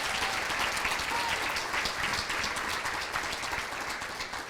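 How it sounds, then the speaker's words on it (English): At a community forum on transitional kindergarten, an audience applauds a superintendent with dense, sustained clapping from a sizable crowd that tapers off slightly toward the end. "Let's have a round of applause for an amazing superintendent and leader in Mary Jane Burke."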